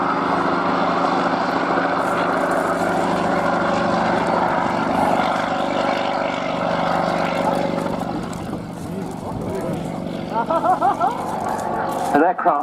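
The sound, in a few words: Bristol Sycamore helicopter, 9-cylinder Alvis Leonides radial engine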